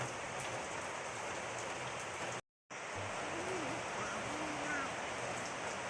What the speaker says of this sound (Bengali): কি বাইরে বৃষ্টি আছে বৃষ্টির দিকে নজর বাইরে বৃষ্টি আছে